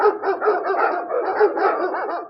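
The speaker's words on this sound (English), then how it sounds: "You see, my dogs are barking." Several dogs bark and yip in quick, overlapping bursts, loud and close, filling the short stretch without pause.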